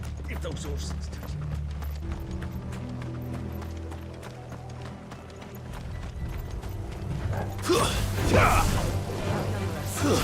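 Horses gallop in the video game Final Fantasy XVI, a continuous rhythmic hoof pattern mixed with low tonal sounds and voices, followed by a louder rushing swell near the end.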